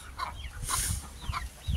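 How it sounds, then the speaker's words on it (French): A hen loose outdoors with her four young chicks clucks in short, low bursts close by, while thin high peeps from the chicks rise and fall between the clucks. "J'ai lâché la poule avec ses 4 petits."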